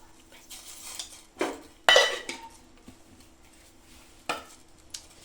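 A spoon stirs sugar into boiled milk in a pot for homemade ice cream, making a few scattered clinks and scrapes against the vessel, close and moderately loud with quiet pauses between.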